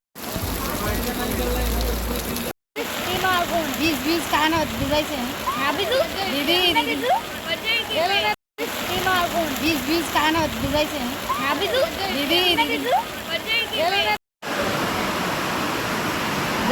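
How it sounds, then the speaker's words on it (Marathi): Heavy rain pours steadily outdoors, a dense and continuous wash of noise, while people talk over it throughout. "कसला पाऊस आहे इकडे"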